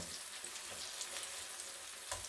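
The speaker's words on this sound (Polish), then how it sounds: "Między pomidory wsypaliśmy paprykę i teraz czekamy około minutki, aż się podsmażą" Tomatoes sprinkled with paprika frying in a pan, a faint, even sizzle that hisses steadily throughout with small crackles and no talking.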